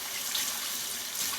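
Tap water running steadily into a sink while hands are washed with soap, a close continuous hiss with no talk.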